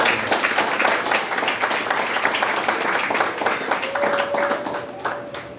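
A church congregation claps in sustained applause across the whole span, dense and steady at moderate level, with a faint voice and a brief tonal note near the end.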